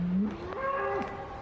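A cow gives a single odd, low vocal noise that rises and wavers in pitch for about a second rather than a plain moo, close and alone.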